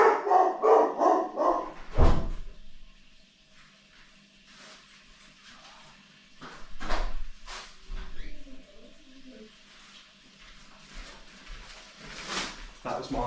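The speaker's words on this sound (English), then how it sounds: "That was my delightful dog," A German Shepherd, Husky and Rottweiler cross barks loudly at the start with a run of close, rapid barks, then goes quiet while someone talks, with a few scattered knocks and rustles.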